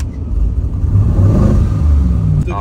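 LS-swapped Chevy G20 van engine running at idle, a loud close mid-range drone with a low rumble that stays steady and even, without any talk over it.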